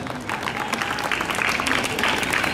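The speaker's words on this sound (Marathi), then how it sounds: "त्यामुळे या सगळ्या शिक्षक वृंदासाठी जोरदार टाळ्या झाल्या पाहिजेत." An audience at a prize-giving ceremony applauds the teachers, a loud, steady wash of clapping from many hands that holds throughout without a break.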